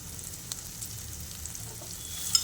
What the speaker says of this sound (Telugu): దీన్ని కూడా ఆయిల్లో బాగా ఫ్రై చేసుకోవాలి.